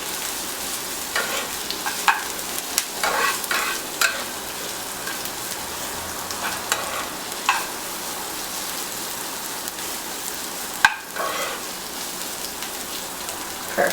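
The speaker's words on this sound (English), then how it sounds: "I'm just waiting on the onions to brown just a little bit" Onions browning in a pan, with a soft, steady sizzle like light rain and occasional faint stirring clicks, quiet and without talk.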